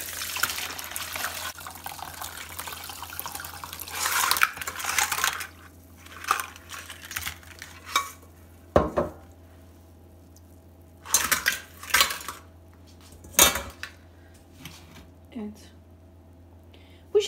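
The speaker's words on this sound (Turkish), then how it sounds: "Şimdi süzgeç ile süzüp" Cooled water from boiled eggs is poured through a metal strainer, with intermittent bursts of splashing and clinking metal between quieter pauses, close by, and soft whispering in the background.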